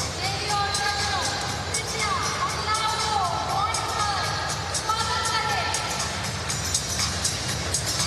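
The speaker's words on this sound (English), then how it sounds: "The vault finalists come into the arena to a generous applause" Arena crowd at the 2010 Commonwealth Games women's vault final applauding as the gymnasts walk in: continuous clapping and a few whoops fill the space, with an announcer's voice and echoing music over it.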